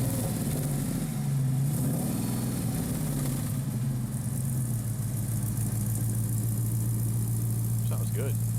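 A Hemi V8 under the hood of a 1937 Ford street rod idles with a mild, steady low rumble, the note shifting slightly early on, while someone talks over it.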